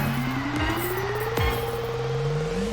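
Simulated car engine in a Unity Extreme Drift driving demo with Wwise audio: a continuous revving tone that climbs and levels off, while two quick sweeping whooshes pass close by. No voices are heard.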